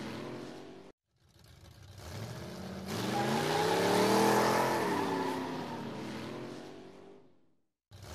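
A car speeds toward a gate and spins out of control, its engine roaring and swelling loudly after a brief silence, with rising tonal whine, then fading away near the end.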